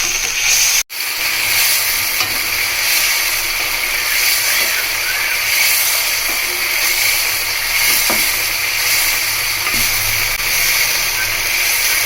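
Chicken frying in a pan for achari chicken korma gives a loud, steady hiss of frying, broken by one brief sharp drop near the start, with no talk.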